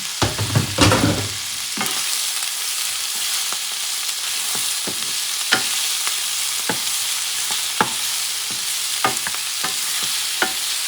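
Shrimp frying in a pan for arròs negre, a bright steady sizzle broken by repeated scraping clicks of a utensil stirring, close and continuous with no speech.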